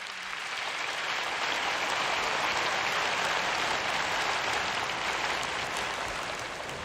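A church congregation applauding the Lord during a sermon, a loud sustained wash of many hands clapping that holds steady throughout, no speech over it.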